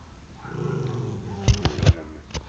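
A dog growls low and close in a few rumbling bursts, followed by sharp, loud thumps and scuffles as it moves about.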